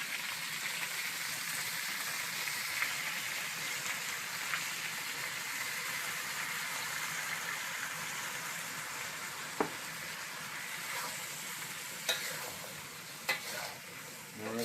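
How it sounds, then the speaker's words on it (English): Sweet pepper-glazed hot wings sizzle in a skillet over a campfire, a steady soft crackling hiss that continues throughout, with occasional sharp pops and clicks standing out. "We're going to cook this for a few minutes, let that glaze caramelize and stick all over the wings"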